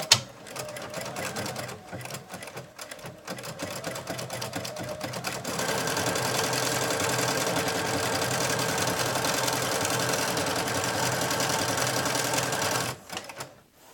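A Bernina Artista 200 sewing machine stitches in a fast mechanical whir with short stop-start bursts at first, then a long, even, loud run before stopping. The sound is close, with no talking.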